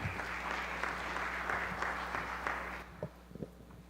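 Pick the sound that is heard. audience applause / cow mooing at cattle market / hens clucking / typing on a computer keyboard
audience applause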